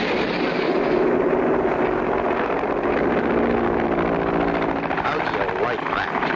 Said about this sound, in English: Crank up the engine.